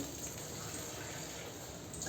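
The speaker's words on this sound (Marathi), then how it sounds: "आणखीन दोन वाट्या पाणी टाकून घ्यायचं आहे" Water is poured steadily into a cooking pot of barnyard millet tempered with buttermilk, giving a continuous, soft, even splashing stream with no break.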